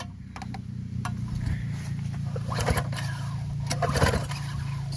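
On an Ariens two-stage snow blower, model 937004, the starter cord is yanked a few times over a steady low hum, giving short ratcheting rasps and clicks near the end with no engine catching.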